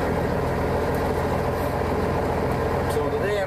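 A car engine hums steadily in a continuous low drone as the car drives along, with a voice talking over it.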